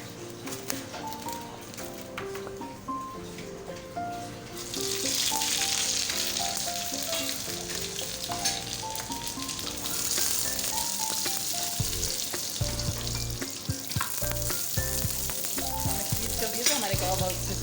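Shami kababs fry in oil in a pan with a steady, close hiss and sizzle, with crackling bursts that rise and fall, alongside background music and no speech.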